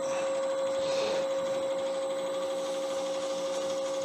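Wooden gun-themed pen spinning on a wood lathe while dried wax is buffed off with light pressure, giving a steady continuous whir with a strong constant motor tone throughout.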